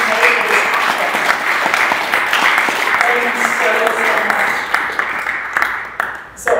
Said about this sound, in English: a big round of applause for Barbara, our MC, and everyone who's been working for months literally to make this happen